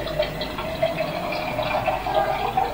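Water is poured into a small container, making a steady, continuous trickling and splashing that stays close and even throughout.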